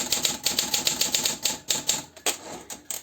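An Olympia typewriter with its carriage lock just released, the carriage ratcheting along in a quick, fairly loud series of clacks and clicks, with a brief pause before a few more strikes.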